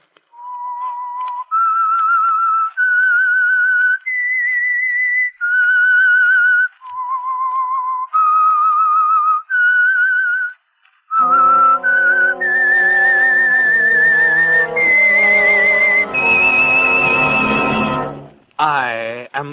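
Theme signal of The Whistler radio show: a lone human whistle carrying a slow melody in separate sustained notes, then a brassy orchestral swell joining under the tune, loud and close.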